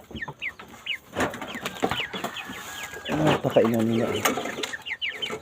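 Chickens clucking and chirping as they are fed corn and feed in a backyard coop, a busy scatter of close calls while someone talks over them.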